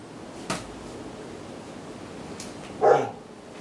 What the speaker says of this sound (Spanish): perdonen el perro del vecino